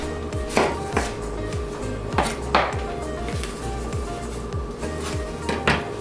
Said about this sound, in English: Just slice them.